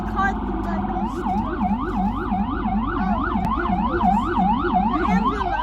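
An emergency vehicle siren wails on a New York City street, loud and close, its rising-and-falling tone sweeping steadily over engine rumble and traffic noise.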